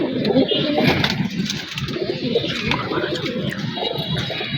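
Old-breed domestic pigeons in a home loft coo in a low, steady murmur, several birds overlapping close by, with a faint hum of traffic behind.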